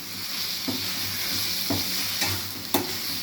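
Food frying in a pan gives a steady broad sizzle, with a few soft stirring knocks of a spoon against the pan. No one speaks.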